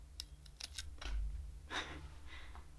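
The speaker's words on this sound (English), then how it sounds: "You cut below the node at like a 45-degree angle with really sharp scissors" Several quick, crisp snips of sharp scissors cutting a houseplant stem close by, a short pause, then another cut, with faint breathing underneath.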